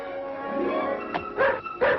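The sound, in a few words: dog Brutus barking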